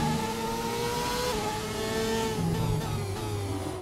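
Formula 1 car engine from the F1 2017 game on a fast lap, a high sustained whine that shifts pitch through gear changes, loud and close with no talk over it.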